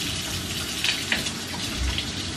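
Water runs steadily from a newly plumbed kitchen sink tap, a continuous broadband hiss with faint splashes.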